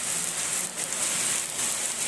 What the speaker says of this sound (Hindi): हवा जो है बहुत अच्छी चल रही है और बहुत अच्छी वाली बारिश हो रही है।